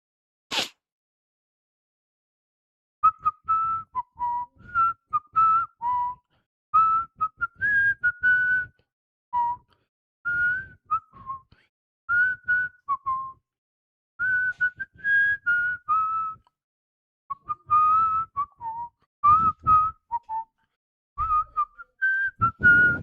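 Someone whistles a melody in short, clear phrases with brief pauses between them, close and alone against near silence.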